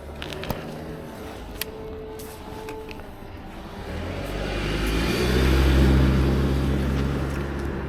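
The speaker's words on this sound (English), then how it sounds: "So you just wait for these cars to pass." Traffic on a road builds from a low rumble into a loud, near pass of cars around the middle, then eases slightly, heard while waiting with an ADO Air 20 Pro folding e-bike beside the road.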